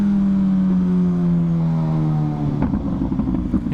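A Honda Fireblade sport motorcycle engine idles steadily with a falling pitch, then a quick throttle blip for a rev match flares up near the end, close and loud with no talk.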